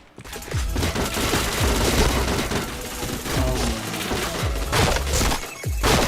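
Gunfire fills a shooting video game in rapid bursts and repeated heavy shots, loud and close, with sharp cracks and thumping impacts rolling across the whole stretch with hardly a pause.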